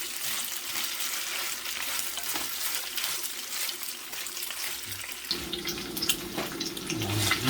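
Tocino, sweet cured pork, fries in a pan with a steady, soft sizzle and crackle, fairly quiet and continuous, joined later by scraping as it is stirred.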